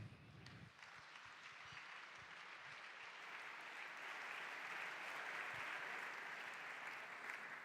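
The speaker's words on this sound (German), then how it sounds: "Bitte einen großen Applaus." Large audience applause at re:publica 2018, a conference stage: a dense, steady wash of many hands clapping that swells slightly and holds, heard from within the hall with no voices.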